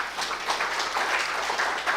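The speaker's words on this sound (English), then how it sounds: "can we give the women here a very big round of applause?" Audience at a UN Women Nigeria media roundtable applauds the women present, a steady, fairly quiet patter of many hands clapping together with no talk.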